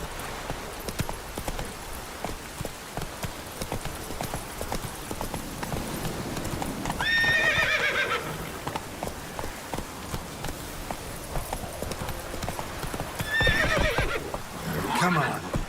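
Horse hooves clip-clop steadily in The Witcher 3 open-world action role-playing game, with two loud whinnying neighs rising over the hoofbeats near the middle and again toward the end, and a voice speaking briefly over it.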